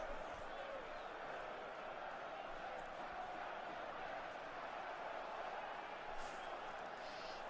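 Steady roar of a football video game stadium crowd at a Palmeiras vs Grêmio Brazilian Série A match, a dense continuous wash of distant cheering that never lets up.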